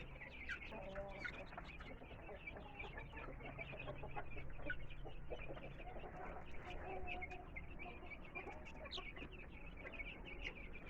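Rhode Island Red chickens, kept one rooster to four hens, cluck and call steadily and close by, with overlapping bird calls throughout.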